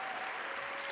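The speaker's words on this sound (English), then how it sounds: "Can we give her a round of applause, please?" Broad, steady audience applause filling a large hall at an academic conference presidential address, a distant, even wash of many hands clapping at low volume.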